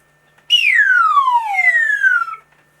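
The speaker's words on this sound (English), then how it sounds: "They love the slide whistle because it's very silly." A single slide whistle glides in one long descending tone lasting about two seconds, loud and clear against silence, like something falling.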